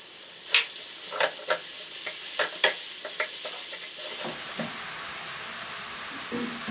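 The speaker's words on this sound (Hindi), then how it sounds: "कीमे को हमने 1 मिनट के लिए फ्राई कर लिया है।" Minced meat fries in a pan with onion, ginger and garlic, giving a steady close sizzle punctuated by scraping stirs and small pops that thin out toward the end.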